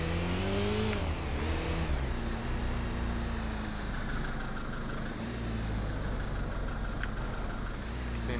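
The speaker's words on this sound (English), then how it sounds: "The red car there is driving recklessly." A red car speeding and driving recklessly through city traffic in the police game GTA IV with the LCPDFR mod, its engine roaring steadily and revving up at moments while other traffic rumbles around it, loud and continuous.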